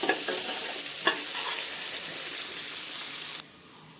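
Chopped onions sautéing over a medium flame for mixed-vegetable pulao give a close, steady sizzle broken by spatula scrapes, then the sound drops away abruptly just before the end.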